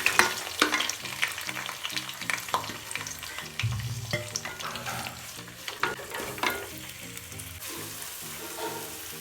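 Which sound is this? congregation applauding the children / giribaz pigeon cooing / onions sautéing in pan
onions sautéing in pan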